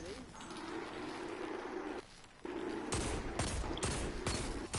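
Video game gunfire: rapid bursts of sharp shots crack out in quick succession over steady background game noise, with a brief lull partway through, fairly faint overall.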